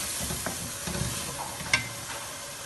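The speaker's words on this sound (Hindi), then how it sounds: "जब हम टमाटरों को भी अच्छे से भून लेते हैं और फिर इसमें हम स्पाइस ऐड करेंगे।" Tomato masala frying in a pan, a soft, even sizzle with occasional stirring scrapes and one brief clink, close and fairly quiet, no voices.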